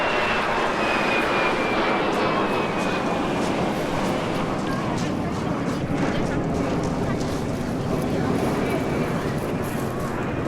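A De Havilland Vampire FB.52 jet with a Goblin engine passes at an airshow, a steady, broad roar of jet noise throughout, with faint wind buffeting and a voice talking over it.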